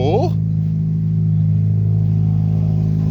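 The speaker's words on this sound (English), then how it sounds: "as you can hear, she's got a pretty sweet exhaust leak" A car engine with an exhaust leak idles in a steady, low, throbbing rumble, loud and close. Speech is heard over the opening moment.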